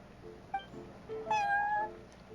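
A cat in the Genshin Impact video game meows twice, a short chirp followed by a longer, louder drawn-out meow, clear and close with no talk over it.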